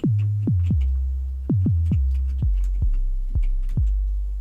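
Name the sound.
synthesized 808 bass booming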